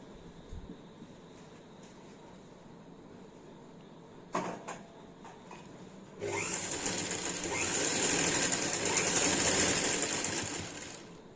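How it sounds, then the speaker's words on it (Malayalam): Sewing machine runs a steady stitching burst across ladies' pants while elastic is sewn down the center, loud and close after a few handling clicks, holding for several seconds before easing off. "ഇതിന് വേണം ഇനി സെൻറ്ററിൽ കൂടെ ഒരു സ്റ്റിച്ച് കൂടെ കൊടുക്കാം."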